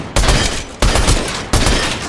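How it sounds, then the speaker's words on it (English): Striker assault rifle fire in Fortnite, loud close bursts of rapid shots in three back-to-back strings with tiny gaps between them. "So that's the striker AR right there."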